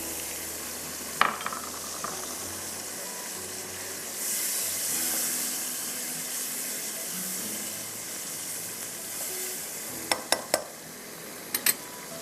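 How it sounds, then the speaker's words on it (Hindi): Raw vegetables such as potatoes tumble into browned masala in a pan and sizzle softly, with a burst of hissing and scattered knocks and scrapes of a spoon near the end. "अब आप इसमें सारी सब्जियां डाल दीजिए"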